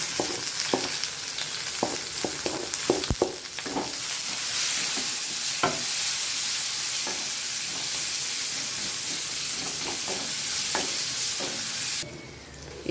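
Chopped large onions sizzle and fry in hot oil after mustard seeds have popped, a steady close hiss with scattered crackles and stirring clatters throughout.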